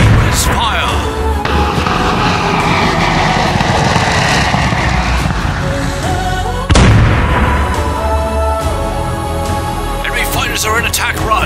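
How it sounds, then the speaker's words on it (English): Anti-air guns blaze during a fleet defense battle in the video game Starfighters: Raven Station: a loud, dense, unbroken barrage of booms and bursts with a sharp blast partway through, and voices partly mixed into the din. "Get those anti-air guns ready for battle."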